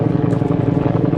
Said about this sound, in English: Lots of helicopters flying by.